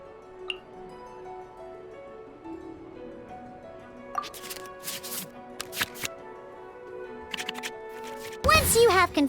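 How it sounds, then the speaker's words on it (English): Digital card shuffle in the Genshin Impact dice-and-card game, a few short crisp riffles and clicks over steady game music, ending in a brighter burst of chimes. "we can select any number of cards in our hand to shuffle back into the draw pile"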